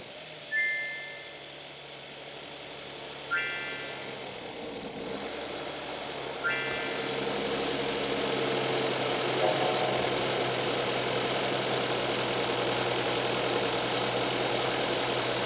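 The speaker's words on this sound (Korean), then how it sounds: "시동 걸어봐." A Mercedes-Benz engine, just fitted with a rebuilt alternator, cranks over in three short starter attempts spaced a few seconds apart, then catches and settles into a steady, close idle hum that runs to the end.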